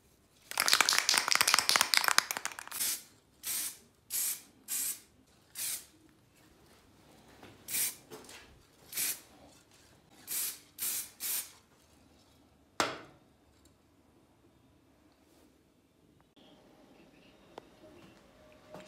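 Spray can coating a vintage lamp with zinc, a long hiss followed by about a dozen short separate spray bursts at irregular intervals, fairly close, with quiet background noise between.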